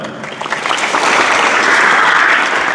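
An audience breaks into applause, clapping that builds quickly into a dense, loud, sustained roar of many hands filling the room.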